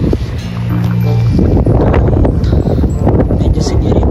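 Strong winter wind at minus six degrees in Canada roars loudly and continuously into the microphone, a heavy gusting rumble that follows a few spoken words.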